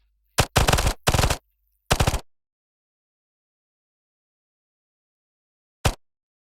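Burst-fire gunshots from a video game weapon: several sharp, loud bursts of rapid shots in quick succession, then long silence before one final short burst, with no talk.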